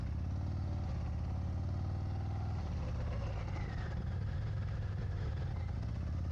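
An ultra-rare Harley-Davidson CVO Road Glide RR motorcycle engine gives a steady, dense, throbbing low rumble, loud and close throughout with no voices.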